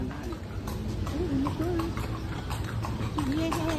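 Steady hoof clip-clop of a horse pulling a kalesa carriage on pavement in Intramuros, Philippines, with people chatting and city noise underneath.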